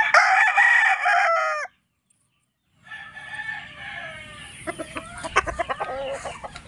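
A pure Joe Black game fowl rooster with a straight comb crows loudly and close for under two seconds. A gap of silence follows, then softer clucking and other farmyard bird calls.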